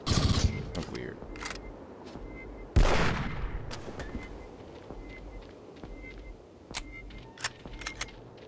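Gunfire in the video game Alien Invasion: sharp, cracking shots, a heavy blast and scattered quick clicks and pops, with game voices speaking between the bursts.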